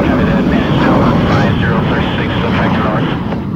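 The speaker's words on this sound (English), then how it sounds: "A group of American F-80 shooting star fighters take off for a combat mission." American F-80 Shooting Star jet fighters taking off, a loud, steady roar of jet engines that fills the whole stretch, with a voice speaking over it.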